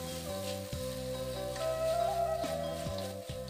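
Chopped scallions frying in a pan of nasi goreng Padang give a steady sizzle, heard close and moderately loud under a sustained tonal background with a few repeated low thumps.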